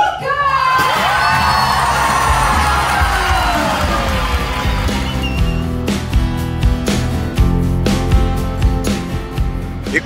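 An audience aboard a cruise ship cheers and whoops loudly after a song, with scattered clapping building up in the second half of the clip.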